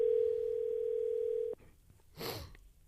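Telephone ringback on an outgoing call: a steady, loud tone holds for about a second and a half, then cuts off, leaving quiet line noise before a brief burst of noise.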